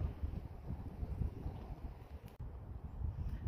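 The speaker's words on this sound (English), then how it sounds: "I've got wind coming at me" Wind gusting into a microphone on a hiking trail, a fluctuating low rumble and buffeting that rises and dips throughout, fairly quiet, with no speech.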